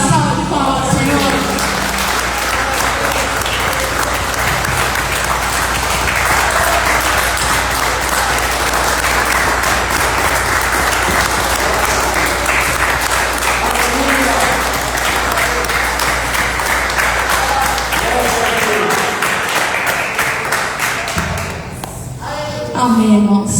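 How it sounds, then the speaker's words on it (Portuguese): A church congregation at a Sunday service breaks into loud, sustained applause that runs steadily for about twenty seconds, then drops off sharply near the end, with voices mixed into the clapping. "Vamos dar uma salva de palmas, Senhor."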